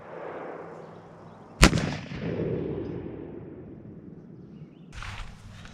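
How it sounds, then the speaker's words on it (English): A LeMat revolver loaded with buckshot fires a single sharp, loud report outdoors that rolls into a long fading echo, followed by a brief muffled thump a few seconds later. "So this is Buckshot, LeMat Revolver, 50 feet. So a pretty good distance for a pistol shot."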